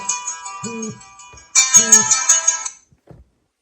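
Find-device alert ringing from a Kospet Tank tactical smartwatch: a bright electronic ringtone in two clear bursts, each with a low tonal pulse, loud and close, then a short click before falling silent.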